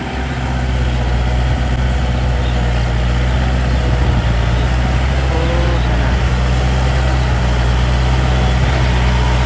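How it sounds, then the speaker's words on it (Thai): Farm tractor working a rice paddy: a steady, loud low engine drone with a continuous broadband rumble and no breaks, close by throughout. "โอ้ไถนา รถไถนาเป็นเนาะ"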